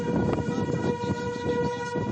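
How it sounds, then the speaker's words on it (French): Steady, sustained tones of a tornado warning siren wail across the scene at moderate distance, holding a continuous pitch with a dense background rumble and no talking. "Une sirène vient de retentir."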